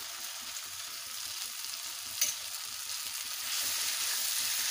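Poppy seed paste with potato and carrot frying in a pan, a continuous close hiss of sizzling that grows slightly louder toward the end, with one brief clink midway.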